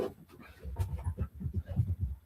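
A dog whimpers and pants nearby in a home, giving a rapid, uneven series of short breathy pants and soft whines at moderate volume.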